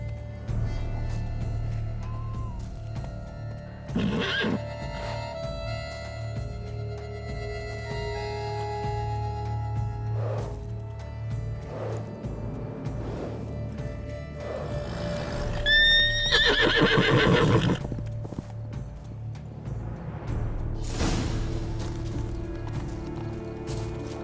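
A horse in The Witcher 3 gives a loud, close whinny over a steady ambient game soundscape, with scattered hoof clops and shuffling around it.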